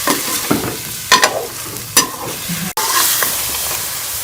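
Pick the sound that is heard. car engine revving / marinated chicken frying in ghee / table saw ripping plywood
marinated chicken frying in ghee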